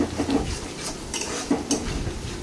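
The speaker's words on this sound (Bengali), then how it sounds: "আদা রসুন পেস্ট দিয়ে একটু নাড়াচাড়া করতে হবে। দেখো, ভালো করে এটাকে নাড়াচাড়া করতে হবে।" Ginger garlic paste is stirred in a pan for a Bengali lobster recipe, a spatula scraping and clinking against the pan in uneven strokes over a faint sizzle, close up and with no talking.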